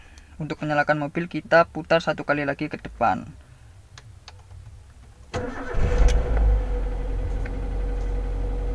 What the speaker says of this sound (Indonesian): Ini mobil sudah menyala ya